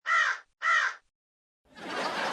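A crow gives two loud, harsh caws in quick succession, followed by a pause and then a burst of broadband rustling noise.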